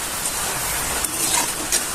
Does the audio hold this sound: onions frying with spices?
no